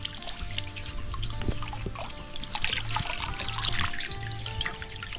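Water trickles and splashes steadily nearby as mushrooms are washed, a continuous light pouring with small drips and some faint clatter, and no one speaks.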